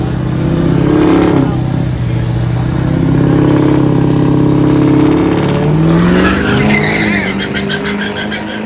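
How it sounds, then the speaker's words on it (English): A car doing a burnout at a Yellow Belly event, engine revving hard and steady at close range with a skidding tire squeal rising near the end and faint voices underneath. "Yeah, I got that burnout."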